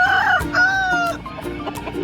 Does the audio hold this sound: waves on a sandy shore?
no